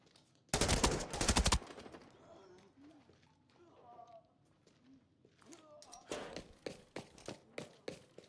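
AK rifle gunfire in a video game comes as a loud, rapid burst of shots, followed later by a quieter series of sharp reports amid faint game sounds.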